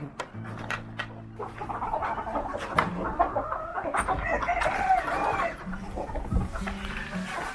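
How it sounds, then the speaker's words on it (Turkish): A rooster crows in long drawn-out calls while hens cluck nearby, with several short bursts of calling and clucking close up over quiet farmyard background. "çok iyi bir horoz"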